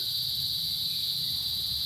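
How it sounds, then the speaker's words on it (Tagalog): Crickets chirp in a dense, steady high-pitched drone out in the countryside, constant and fairly loud throughout with no voices over it. "Hindi na kayo makakarinig ng kuliglig."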